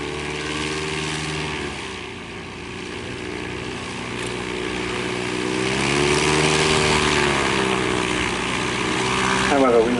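A steady propeller engine of a vintage de Havilland-designed aircraft at the Shuttleworth Collection drones loudly and continuously, its pitch rising and falling slightly as it passes overhead.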